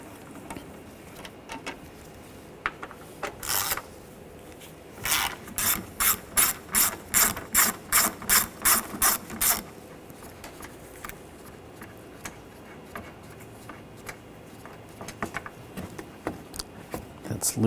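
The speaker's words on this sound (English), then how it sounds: "Using a 8mm socket, take these screws out." Ratchet wrench with an 8mm socket backing out screws on a 2013-2019 Ford Escape, heard as a fast run of about a dozen loud, even clicks after a couple of earlier single ratchet bursts, with quieter tool handling around it.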